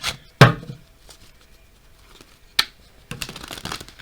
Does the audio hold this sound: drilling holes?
no